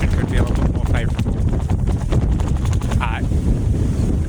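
Strong wind on Chatham Island buffets the microphone outdoors in a steady, loud roar, with gusty rumbling throughout and a few faint creaks.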